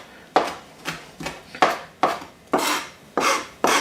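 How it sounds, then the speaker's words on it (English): Knife chopping fresh rosemary on a cutting board, about nine sharp, evenly spaced strokes, close and distinct with no talk. "And just give it a chop"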